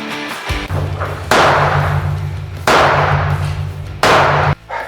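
Three loud, sharp gunshots ring out at an outdoor shooting range, evenly spaced about one and a half seconds apart, each followed by a long echoing decay over a low steady hum.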